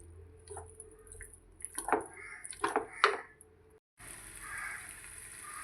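Cooked pasta being stirred into a creamy white sauce in a pan, giving soft wet squishes and drips with a few sharper utensil clinks, a brief pause, then a steadier hiss.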